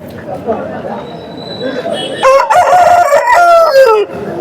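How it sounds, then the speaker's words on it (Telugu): A rooster crows loudly and close by, one long drawn-out call, after a stretch of murmuring voices and background noise. "ప్రతి ఒక్క పుంజు కూత అయితే ఉంది"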